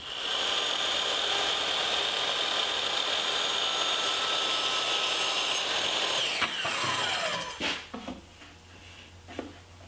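A power saw cuts through wooden molding for a chalkboard frame, a loud steady whine held for about seven seconds before winding down, followed by a few faint clicks and knocks, no voices.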